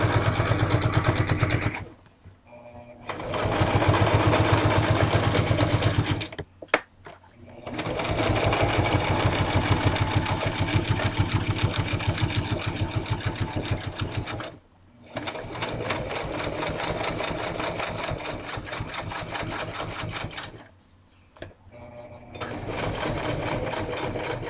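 A sewing machine stitches a homemade guitar strap in rapid mechanical bursts, stopping and restarting several times with short pauses between runs.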